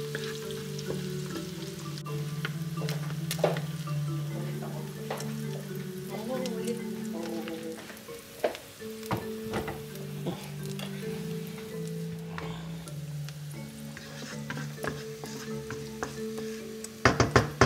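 Garlic frying in a pan, a steady close sizzle with stirring clatter and occasional spoon knocks against the pan; a voice talks over it at times.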